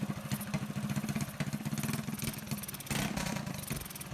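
A Predator 224 mini bike engine fitted with a Mikuni VM22 clone carburetor runs with a steady rapid putter, lean and airy on throttle, loud and close with a brief rise in intensity, no speech.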